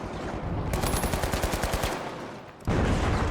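Rapid automatic fire crackles in dense bursts in the video game The Finals amid explosions going off, loud and sustained, dipping briefly before another heavy blast of fire cuts back in.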